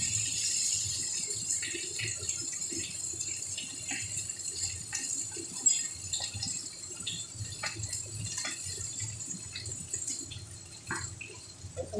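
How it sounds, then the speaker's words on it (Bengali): Water poured from a jug into a pan holding small puti fish for a spicy fish curry, a faint, steady trickle with small drips and light rattles in a quiet home kitchen. "আমি এবার মাছগুলোকে এর মধ্যে দিয়ে দিচ্ছি পরিমাণ মতো জল দিয়ে দেবো"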